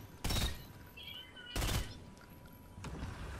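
An assault rifle in Fortnite fires three short bursts, each a loud, sharp cluster of shots separated by about a second of quieter game ambience.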